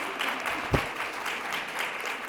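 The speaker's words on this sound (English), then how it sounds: "let's give a hand to Ms. Sharon Isdale" Audience applause for Ms. Sharon Isdale at a church bicentennial program, a steady wash of clapping from a crowd that continues throughout, with one sharper clap standing out near the middle.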